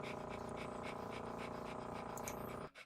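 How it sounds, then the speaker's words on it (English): A guard dog in the Contraption Maker video game pants in a steady, rapid rhythm of breaths, loud and close, running without pause for nearly three seconds before cutting off. "Have his guard dog open the door for him."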